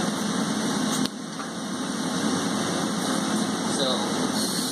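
A Chambersburg utility hammer cycling on its motion control, a steady mechanical hum and hiss with faint rhythmic pumping under it, moderately loud and continuous, with people talking nearby.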